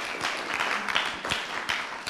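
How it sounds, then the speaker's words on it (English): A church congregation claps together briefly, a scattered patter of hands fairly close and moderately loud, with a faint cheer mixed in. "Let's have a clap."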